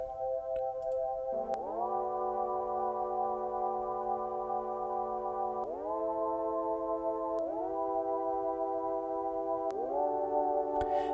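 A small synthesizer sine wave oscillator, a quiet sustained tone that glides to a new pitch several times, with faint ticks in the background.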